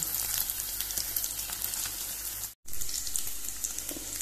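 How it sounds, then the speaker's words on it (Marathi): Paneer pieces fry in a pan for Goan-style masala paneer. A close, hissing sizzle goes on steadily, broken by a brief silent cut about halfway through, then continues. "आता हे काढूया भाजून।"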